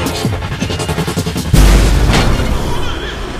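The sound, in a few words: logic bomb explosion in video game Remember Me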